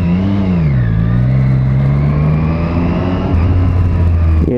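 A 2018 Triumph Street Triple R motorcycle engine revs loudly up close, its pitch dipping then climbing steadily as it accelerates, ending in a lower drone.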